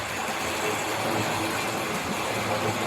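An old Margate-made model train locomotive runs steadily, giving a continuous close whirring rumble of motor and wheels on track with no pauses.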